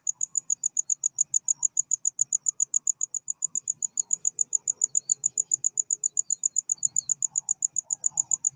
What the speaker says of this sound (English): I know them crickets are up on the shore and I'm a good little ways out